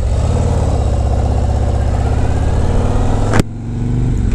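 A stock 2024 Harley-Davidson Road Glide touring motorcycle runs on the road with a steady, loud, deep engine rumble, then dips briefly as if shifting before the drone resumes.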